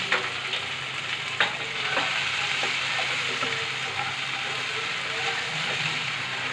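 Tomato and browned onion frying together in a pan, a dense, steady sizzle up close with scattered stirring clicks and spoon scrapes throughout.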